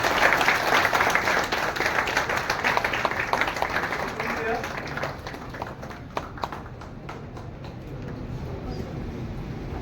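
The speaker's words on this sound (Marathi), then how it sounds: "जरा जोरदार टाळ्या." Audience applause at a retirement felicitation for a Maharashtra police officer, a dense sustained clapping that fills the whole stretch and thins slightly toward the end, with some voices mixed underneath.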